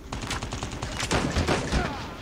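Rapid bursts of gunfire in Call of Duty Mobile, with quick repeated shots and heavier thuds around the middle, close and punchy.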